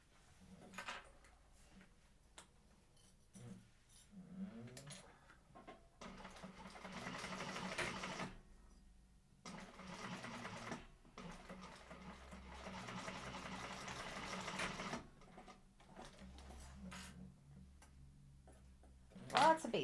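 A sewing machine runs basting stitches on a sling during a sewing class, in several bursts of steady mechanical whirring between pauses, with a person talking over and between the runs.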